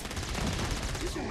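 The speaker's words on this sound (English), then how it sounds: "Guns." Rapid gunfire in the video game Saints Row: Gat Out of Hell, a loud, dense burst of continuous shots filling the whole moment.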